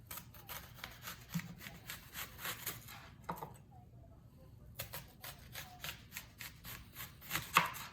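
A knife slices an onion on a cutting board, giving a quiet series of quick, rhythmic chops with a brief pause partway through.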